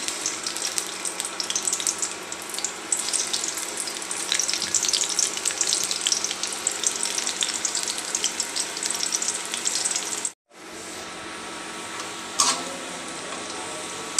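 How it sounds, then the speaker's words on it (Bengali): Sliced onions sizzle in hot oil in a wok, a dense, continuous close-up frying hiss that cuts out briefly near the end, then returns quieter with a short clatter. "পেঁয়াজটা দিয়ে দিচ্ছি"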